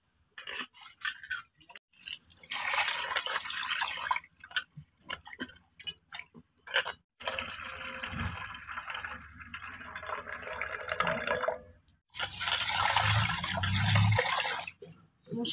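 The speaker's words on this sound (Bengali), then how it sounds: "এবার ডালটাকে আমি 3-4 বার জল পাল্টে পাল্টে ভালো করে ধুয়ে নেব।" Red lentils, about 250 grams, being rinsed by hand in a bowl of water, with irregular sloshing, dripping and splashing bursts close by, separated by short pauses and scattered clinks.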